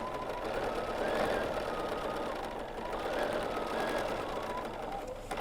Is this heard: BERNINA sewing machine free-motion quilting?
yes